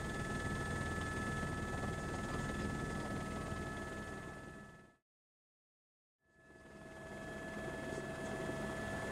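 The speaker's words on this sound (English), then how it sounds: "We have taken off, and the helicopter is in hovering flight." A helicopter hovers just after takeoff, its loud, steady rotor and engine roar filling the sound with a constant whine, broken by a short dropout to silence midway before resuming.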